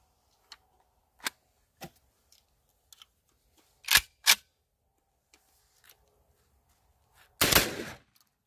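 Outdoor shots from a Garaysar Fear-103, a Turkish AK-style rifle, fired at milk jugs and other found targets: several sharp isolated cracks spaced apart, a louder pair near the middle and a final heavy blast, with faint clicks between.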